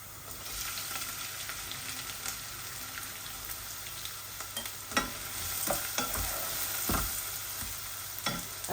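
Onions frying in hot oil in a pan with browned garlic, for a minced meat dish: continuous close sizzle with repeated scraping and clinks of a spoon stirring, no talk.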